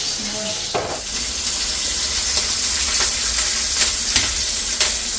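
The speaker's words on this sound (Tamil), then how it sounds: "எண்ணெயும் கொதிச்சுட்டு நாங்கள் உள்ளியை போடுவோம்" Garlic fries in hot oil for crab curry, giving a loud, steady broadband sizzle with a few sharper crackles and stirring clicks, close up.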